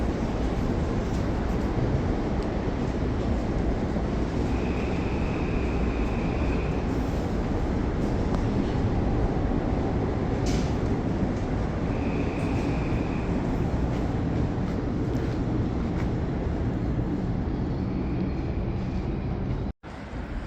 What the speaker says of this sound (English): as yet another express train appears out of nowhere,